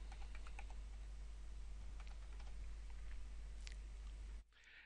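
Keys clatter steadily on a computer keyboard as a copy con command and filename are typed at a command prompt, a fast run of close clicks over a constant low hum that cuts out just before the end.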